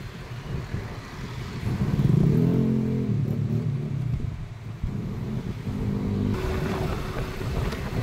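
A Suzuki Smash 115 motorcycle rides along a zigzag road in Pililla, Rizal, its small engine droning steadily with rises and falls in revs under constant wind rumble.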